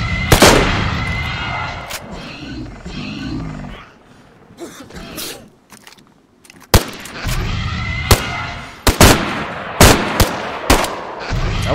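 Shotgun blasts in the survival game DayZ, sharp loud reports fired irregularly, several spaced shots with a rumbling lull between, mixed with a growling creature and brief voices.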